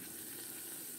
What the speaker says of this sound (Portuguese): Eu prefiro fazer assim somente com alho e pouco óleo